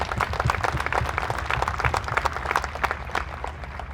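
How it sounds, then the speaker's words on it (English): An audience claps in a dense, continuous round of applause at a ceremony. It sounds close and fairly loud, and no voices are heard. "Let's give him a round of applause for that."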